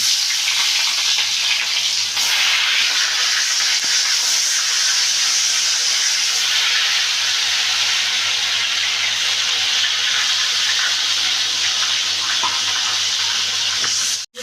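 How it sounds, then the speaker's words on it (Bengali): Pieces of rui fish fry in hot oil in a kadai with a loud, dense, unbroken sizzle and hiss that holds steady for the whole stretch, then cuts off abruptly at the end. "এবার আমি মাছটাকে ভেজে নিচ্ছি"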